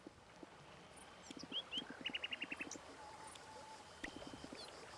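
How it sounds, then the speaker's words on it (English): Birds in the video game Moonlight Peaks chirp and coo softly against a quiet ambient backdrop, with a rapid series of short, evenly spaced bright notes in the middle and scattered calls around it. "I hear birds."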